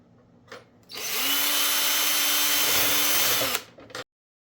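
A power drill bores holes into an old garden rake: a loud, steady whine starts after a short pause, runs unbroken for about two and a half seconds, then winds down with a few brief taps.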